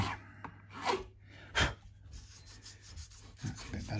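A file rounding off the front edge of the nut on a Fender Player Plus Telecaster, a few short, scratchy rasping strokes up close, quiet and unhurried, with no talk.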